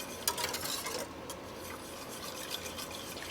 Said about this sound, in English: I'm going to whisk that together.